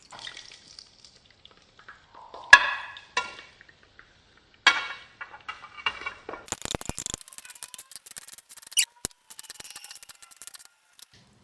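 Chopped elephant foot yam, green chilies and shallots dropped into a pan for Kerala-style theeyal, with scattered clatters, stirring scrapes and a brief crackling burst of frying, close but fairly quiet between bursts.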